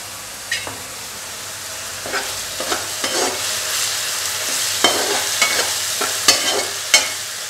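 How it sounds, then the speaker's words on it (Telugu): Egg masala curry fries in oil under a steady sizzle, punctuated by a series of sharp spatula scrapes and knocks against the pan, near and clear, with nobody speaking. "మనకి ఇది వేగుతున్నప్పుడు ఆయిల్ అంతా ఇలా పైకి రావాలి వస్తుందంటే అది వేగుతుందని అర్థం అన్నమాట"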